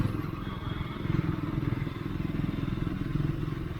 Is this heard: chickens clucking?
no